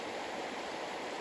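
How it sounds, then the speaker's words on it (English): Fast, oxygenated stream water in Hokkaido pours into a trout pool with a close, constant rushing roar, steady and unbroken, with no talk. "You can see the oxygenated fast flowing water coming into the pool"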